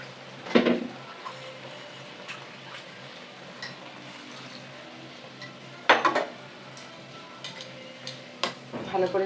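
Fried tangra fish stirred in a metal pan, with sharp utensil scrapes and clanks coming in a few distinct bursts over a low background sizzle.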